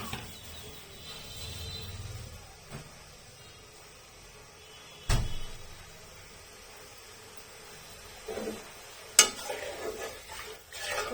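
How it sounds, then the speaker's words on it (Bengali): Sugar syrup being stirred in a pan as the sugar melts, a quiet continuous scraping with a few sharper knocks of the spoon against the pan. "নেড়ে চেড়ে দিচ্ছি ভালোভাবে যেন চিনিটা গলে যায়"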